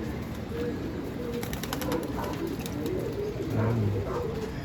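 Pigeons coo softly at close range after being released from training. The low, repeated coos sit over a steady noisy outdoor background, with faint chirps scattered through.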